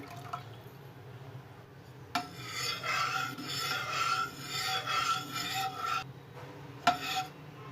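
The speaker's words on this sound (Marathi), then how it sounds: "इथं मी पाणी घालत आहे यामध्ये" Water pours steadily for several seconds into a pot of goda masala aamti curry, a soft gurgling rush bracketed by light clinks.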